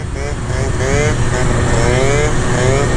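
A 50cc scooter rides on a street, its small engine buzzing loud and close with rising whine as it accelerates, joined by a rumble of wind and road noise throughout.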